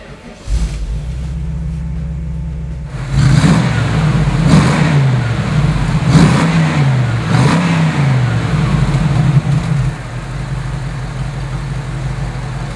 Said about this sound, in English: How about I start it for you so you can hear what it sounds like?